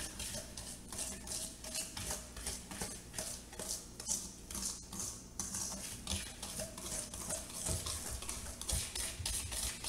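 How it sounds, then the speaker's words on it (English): Chocolate brownie batter is whisked with sugar in a bowl, giving a quick, steady rhythm of soft scraping and tapping strokes, close and fairly quiet throughout. "And then we'll whisk this."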